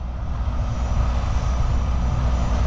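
A loud, steady tractor engine drone rumbles heavily at close range while deep-tilling a field, holding an even, unbroken roar throughout.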